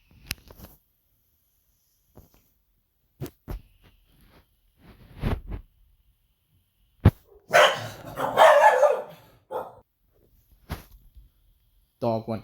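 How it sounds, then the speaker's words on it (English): A dog barks in scattered sharp bursts and a longer run of barking midway, with quiet gaps between outbursts, and someone speaks briefly near the barking. "Gotta get him to come up here so he'll stop barking."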